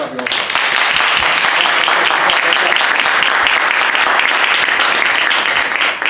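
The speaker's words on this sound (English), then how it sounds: "Let's clap. Let's clap, y'all." A large audience claps loudly and continuously at a motivational talk, a dense, steady roar of applause with cheering voices mixed in throughout.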